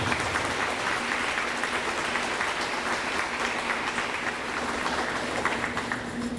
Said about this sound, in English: So could we give them a round of applause to step up?